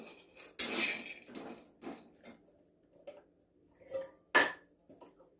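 Cashews and other ingredients roasting in a pan for stuffed laddu, heard as scattered clinks and scrapes of a utensil against the metal, with a louder clatter near the start and another sharp knock later.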